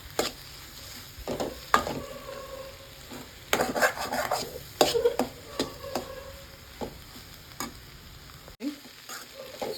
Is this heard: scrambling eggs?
yes